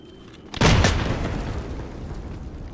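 A grenade goes off in the shooter game Escape from Tarkov: a sudden loud boom after a short quiet stretch, then a long rumbling decay that fades slowly.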